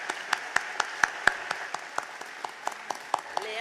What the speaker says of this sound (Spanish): Creo que ella desde la distancia merece un aplauso